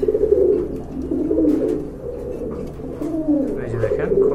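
Pigeons in a loft coo in low, repeated throaty phrases, close and continuous, with faint background voices underneath.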